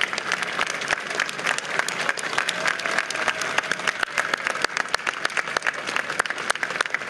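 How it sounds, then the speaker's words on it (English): An audience at the dedication of the Ukrainian Holodomor Monument in Washington, D.C. breaks into applause and cheers, with sharp individual claps standing out over a continuous crowd roar that stays loud and steady throughout. "the audience's gratitude and jubilation is evidenced by their applause and cheers."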